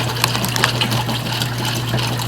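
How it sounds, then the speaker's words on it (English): Running water steadily rinses a large tie-dyed tapestry, a continuous close gushing splash with a low pump-like hum underneath and no talking. "A little wash in hot water after a cold rinse."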